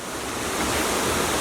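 A waterfall pours into a pool below on a trek to hidden falls near Tirupattur, a steady, close, full roar of rushing water with no voices.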